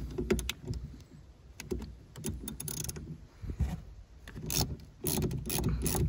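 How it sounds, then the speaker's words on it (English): Ratchet with a 10mm socket loosening the negative cable clamp on a car battery, giving close, busy bursts of clicking and metallic fiddling with brief pauses, no talk. "find your ever elusive 10mm socket, and you're going to remove the negative battery cable"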